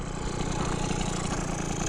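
The small engine of a Malaguti Phantom F12 scooter with tuning issues runs steadily and close, with a buzzy, even drone and no voices over it.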